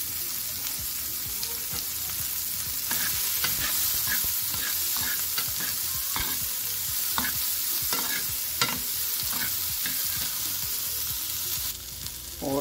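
Onions sauté in a pan of oil toward golden for a fish fry, a loud constant sizzle broken by repeated clattering stirs and spatula scrapes against the pan, close up with no talking.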